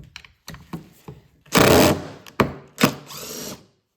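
Water-damaged Dewalt impact driver removing a screw: several short whirring bursts, the longest about two seconds, separated by pauses, close and fairly loud with no talking.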